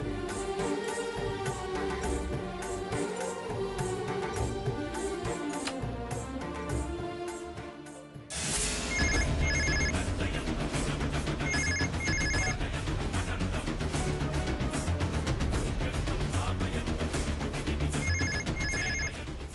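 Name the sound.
telephone ringing unanswered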